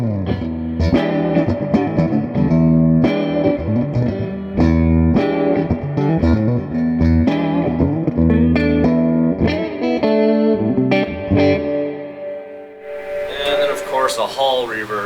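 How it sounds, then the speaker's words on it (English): Electric guitar played through a Bogner Alchemist amp with spring reverb, picking chords and single notes in a lively phrase with a springy tail, ending in a brief noisy decay. "You have a spring reverb, kind of reminiscent of an old Fender sound."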